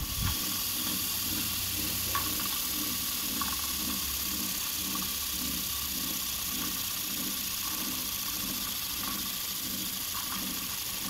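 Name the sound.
car alternator being spun by an air gun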